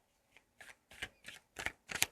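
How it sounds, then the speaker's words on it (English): Tarot cards are shuffled by hand in six quick, soft riffling bursts that grow a little louder toward the end, close and quiet with no talking. "I shuffled the cards."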